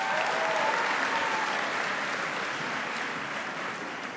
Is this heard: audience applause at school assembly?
yes